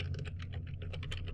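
Rapid typing on a computer keyboard, a steady run of close, crisp key taps with a low hum underneath.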